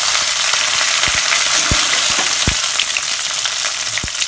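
Curry leaves dropped into hot oil with mustard seeds, dal and a pinch of asafoetida, tempering for a roadside-style tomato chutney: a loud, steady frying hiss with scattered crackles and pops, no talking.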